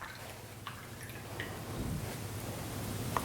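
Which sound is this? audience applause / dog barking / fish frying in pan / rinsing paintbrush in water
rinsing paintbrush in water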